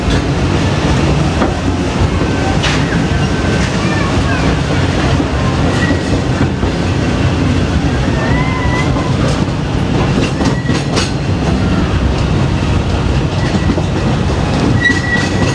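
The Walt Disney World Railroad train at Magic Kingdom rumbles steadily along the tracks, loud and close, with rhythmic clattering of wheels and occasional faint metallic squeals throughout.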